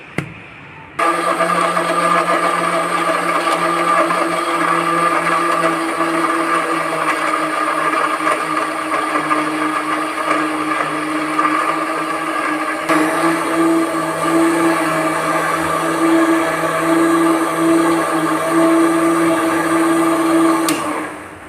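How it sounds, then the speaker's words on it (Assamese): An electric mixer blends mango, milk and ice into a milkshake, giving a loud, steady whirring drone that holds from start to finish with no voices over it. "এতিয়া এই আটাইখিনি মিক্সাৰত ব্লেণ্ড কৰি"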